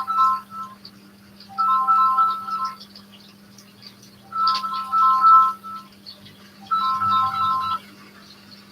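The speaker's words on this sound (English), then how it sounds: "Oh, my phone is ringing." A mobile phone ringtone plays a short melodic electronic phrase four times with pauses between, over a low steady hum in a kitchen.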